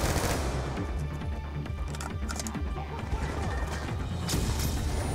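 Dense, continuous video game gunfire from Call of Duty Black Ops 2 during a campaign mission, with rapid automatic bursts and crashing impacts layered throughout at steady loudness.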